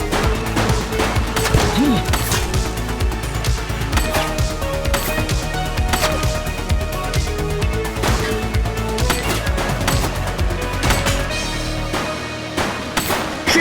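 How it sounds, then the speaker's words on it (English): Dense, continuous gunfire in the police video game The Precinct, rapid overlapping shots and bursts crackling loudly for the whole stretch, with a voice briefly heard amid the barrage. "Shots fired!"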